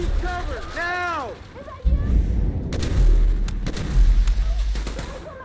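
Grenade explosion and gunfire in the video game GTA 5, deep booms and shots over several seconds, with voices speaking and shouting throughout.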